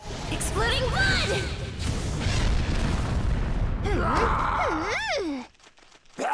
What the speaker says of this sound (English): Blood demon art. Exploding blood.